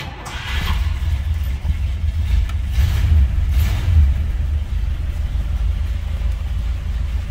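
A 1960 Imperial Crown two-door hardtop's engine runs at close range, a loud, steady low rumble with a couple of brief revs swelling in the middle, alone without talk.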